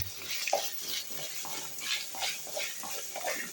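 Small chopped coconut pieces frying in a pan for sweet aval, with steady sizzling and rhythmic stirring scrapes repeating about every half second, close and alone.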